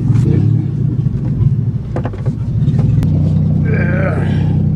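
A Ford Taurus engine runs with no exhaust manifolds, a loud, raw, rumbling idle with rough open-header pulses throughout. Someone speaks briefly over it.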